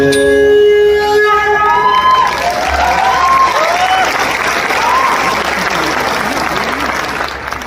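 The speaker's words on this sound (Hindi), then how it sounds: "पूरा सभागार तालियों की गूंज से भर गया" Loud concert-hall audience applause after a nal tarang recital of ragas Bageshri and Desh, a dense wash of clapping with cheering voices fading in over the first seconds, steady to the end.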